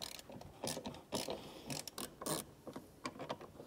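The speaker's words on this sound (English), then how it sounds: "there's this two eight millimeter bolt that needs to be taken out" A ratchet wrench loosens an 8 mm bolt on a Tesla Model 3 or Y tail light, clicking in quick, uneven bursts of sharp ratcheting strokes, close and clear with no talking.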